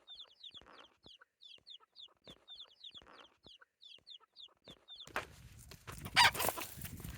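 Young chickens cluck and peep in a quick repeated series of short, close calls, followed by a burst of louder rustling and scuffling noise.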